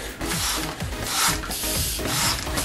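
An Orbz balloon being inflated with a hand pump, heard as steady, close rasping whooshes of air in repeated strokes with a rubbing, squeaky texture, no talking.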